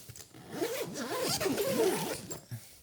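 A zipper pulled along a bag packed with stage piano gear and cables for a battery-powered outdoor gig, close and steady, its rising and falling zips running for about two seconds without talk.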